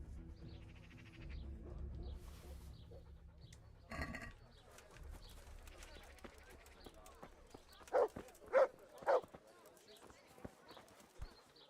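A dog barks three times in a video game, sharp mid-range yaps around the eight-to-nine second mark, set against game sounds and footsteps.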